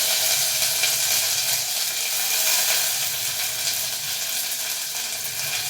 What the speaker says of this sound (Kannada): ನೋಡಿ, ಸಾಸಿವೆ ಪಟ್ಪಟ ಅಂತ ಇದೆ. ಈಗ ಕರಿಬೇವು ಹಾಕಿದ್ದೀನಿ.